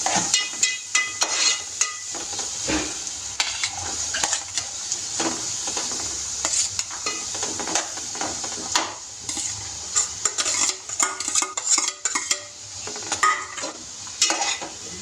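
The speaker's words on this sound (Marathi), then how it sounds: "नंतर टाका त्याच्यामध्ये कांदा, बारीक चिरलेला कांदा आहे ते टाकून घ्यायचं" Finely chopped onion sautés in a pan with cumin for butter chicken sukka, a constant sizzle broken by frequent metallic scrapes and clinks of a spoon stirring against the pan.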